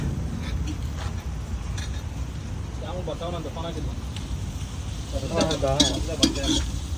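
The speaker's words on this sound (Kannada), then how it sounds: "ಈರುಳ್ಳಿ ಹಸಿಮೆಣಸಿನ್ಕಾಯಿ ಹಾಕಿದ್ದೀರಿ. ಇವಾಗ ಅದೆಲ್ಲ ಫ್ರೈ ಆಗಿದ ತಕ್ಷಣ ಶುಂಠಿ ಬೆಳ್ಳುಳ್ಳಿ ಪೇಸ್ಟ್ ಅಂಟಿಸ್ಬೇಕು" Onions, green chillies and ginger-garlic paste frying in a pan give a steady sizzle with stirring scrapes, joined by voices talking over it in the second half.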